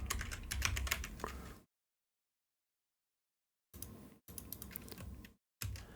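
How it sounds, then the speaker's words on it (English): Fast clicking keystrokes on a computer keyboard, close and fairly quiet, in bursts split by a couple of seconds of silence and short pauses. "just because I'm typing this"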